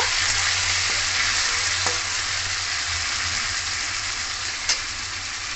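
Boiled, soaked chickpeas frying with ginger in hot oil, a steady dense sizzle throughout with a low hum beneath and a couple of faint utensil clicks, close and alone.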